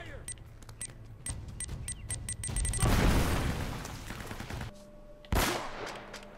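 Bursts of gunfire ring out in Uncharted: Drake's Fortune, quick rattling shots in a run, then a dense, loud stretch of firing and blasts, and a final sharp shot after a brief lull.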